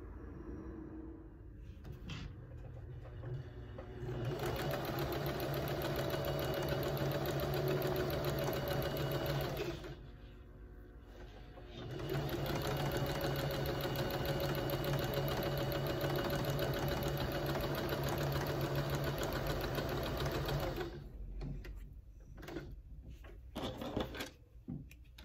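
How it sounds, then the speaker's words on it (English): Sewing machine stitching quilt fabric pieces together at a quarter-inch seam, running in two long steady bursts of rapid mechanical whirring separated by a short pause, close and clear with faint handling noises around them. "take it to the machine, and sew a 1/4 inch"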